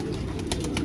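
A thin-feathered racing pigeon with purple feet coos low and steady amid a constant rumbling background hum, with no talk.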